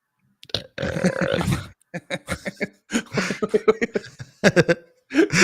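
Several loud, close burps from a man, a long belch followed by shorter grunting eructations and bursts, with chuckling and laughter mixed in among them.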